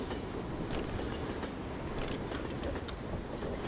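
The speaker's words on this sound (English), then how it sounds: "How long is this train?" Train rolling along rails in the video game Left 4 Dead 2, a steady loud rumbling roar throughout with faint clattering accents, no talk over it.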